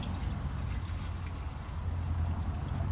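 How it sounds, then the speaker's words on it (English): Acid stain for concrete poured from a container into water, a soft, low gurgling trickle with faint splashy drips, quiet and continuous over a low background hum. "Just pour out a little bit of acid."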